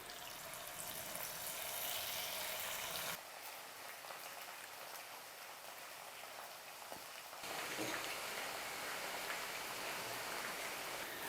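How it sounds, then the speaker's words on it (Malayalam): Marinated chicken pieces dropped one by one into hot oil for deep-frying dragon chicken, a dense continuous hiss and crackle of bubbling oil that dips and swells, with no talk. "അപ്പോൾ നമ്മുടെ എണ്ണ ചൂടായി വന്നിട്ടുണ്ട്. നമുക്ക് അതിനകത്തോട്ട് ഓരോ ചിക്കനും ഇട്ട് കൊടുക്കാം."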